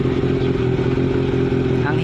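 A Honda CB400 Super Four inline-four idles steadily up close right after its carburetors were synchronised, giving an even, continuous mechanical hum with a faint clatter, alone with no voices.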